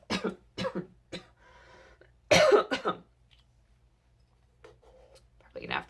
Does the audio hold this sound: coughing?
yes